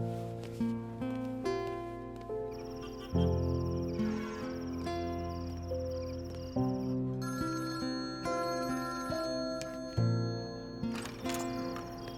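A phone rings with a repeating electronic melodic ringtone, steady and fairly clear, cycling through its tune several times with little else around it.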